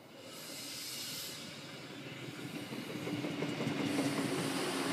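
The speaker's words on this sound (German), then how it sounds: "weil uns gleich ein Zug entgegenkommt" A passing train rumbles and hisses steadily beside a stationary railbus at Weisenheim am Sand station, growing louder toward the end with rail clatter and no voices.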